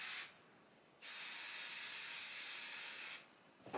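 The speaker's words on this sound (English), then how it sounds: "I'm gonna take my spray adhesive and I'm gonna spray it like away from the shirt" A can of spray adhesive hisses in one steady, close burst lasting about two seconds, aimed off a table at an embroidery station, with a softer faint spray before it and a brief rattle as it ends.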